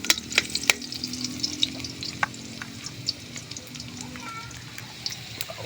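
Garlic and ginger frying in a pan while cooking outdoors, a bright crackling sizzle with scrape and clatter of stirring, a voice speaking briefly over it.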